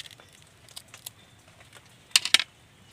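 A knife cuts through raw bananas in a kitchen, trimming off the ends and slicing through the middle: scattered soft ticks, then a loud cluster of sharp, crisp cuts close by near the end.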